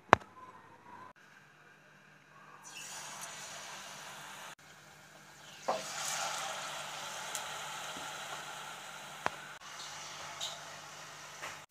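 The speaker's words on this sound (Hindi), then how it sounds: "अब इस डिप समोसे को हम तल के ले लेंगे" Papad samosa coated in maida batter frying in hot oil, a steady broadband sizzle that swells partway through and then holds, with a few sharp pops and crackles over it.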